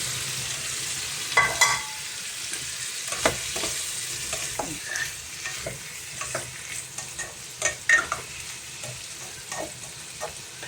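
Beef and vegetables stir-fried in a pan, a steady sizzle with the scrape and clack of a spatula tossing the ingredients every second or so, close and fairly loud, without speech.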